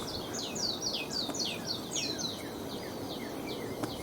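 Small birds near a backyard feeder sing in quick repeated downslurred chirps, several overlapping phrases at moderate distance over a soft background hiss.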